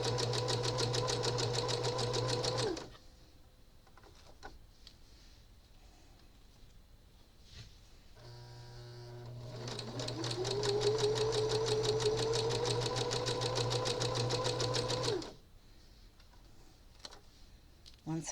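Home sewing machine stitching around a fabric needle book cover, running in two fast buzzing bursts of rapid needle ticks separated by a quiet pause with small handling clicks.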